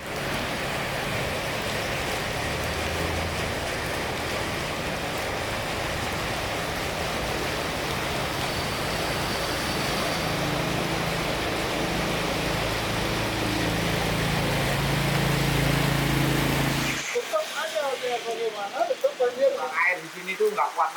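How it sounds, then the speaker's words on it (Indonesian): Heavy, intense rain falling as a dense, constant hiss that stays loud and even, then cuts off abruptly near the end. "Karena kita melihat di kondisi hujan seperti sekarang ini intensitasnya itu cukup tinggi ya"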